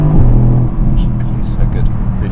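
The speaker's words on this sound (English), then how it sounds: "This 4-litre V8 with a hot V twin turbo. It's just brilliant. It's just a really lovely engine." Mercedes-AMG GT C Roadster with a 4-litre hot-V twin-turbo V8, its engine droning steadily and loudly at close range while a person talks over it.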